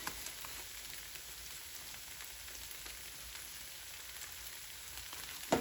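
Garlic sizzles in a pan with oiled ramen noodles, a soft, steady crackling hiss that runs quietly throughout, ending with a small clatter.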